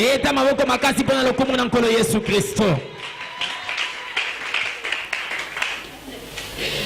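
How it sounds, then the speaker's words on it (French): A church congregation applauds and cheers, a scattered burst of clapping that follows a sustained sung or shouted vocal note and then thins to lighter claps and voices. "Acclamons très fortement pour la gloire de Dieu."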